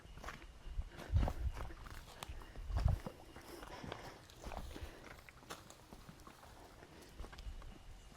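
Footsteps walking on a damp, vegetated trail that could become a streambed, soft irregular treads with a couple of heavier steps early on, close and quiet.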